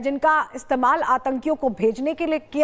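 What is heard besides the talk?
No distinct noise like a dog, phone or traffic.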